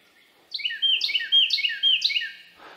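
A bird sings a rapid series of four bright, descending whistled phrases, clear and close, followed by a brief rustle, in East Texas coastal birding country.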